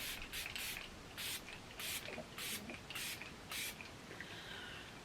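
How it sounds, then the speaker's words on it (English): Several short bursts of Revolution Fix super hold setting spray hiss from a tin, about six spaced puffs in quick irregular succession, close and fairly loud over a quiet room. "I got some Revolution Fixmest Super Hold Setting Spray"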